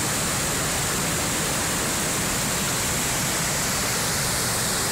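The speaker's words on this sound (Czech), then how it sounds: "Toto je přítok Lužnice od Klokot směřující tímto údolíčkem dále do řeky Lužnice." A wild stream rushes down a small valley from Klokoty toward the Lužnice river in Tábor, giving a steady, dense broadband roar of flowing water close by, unbroken throughout with no voices.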